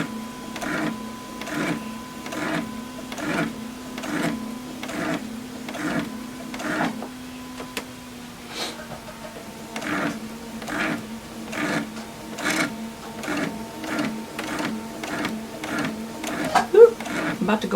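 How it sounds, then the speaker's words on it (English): A sewing machine stitches down the edge of a fabric face mask, running in steady rhythmic pulses with a brief pause midway, close and moderately loud, with soft talk underneath. "I'm just going to sew right down the edge, right on the end of the fold on the inside."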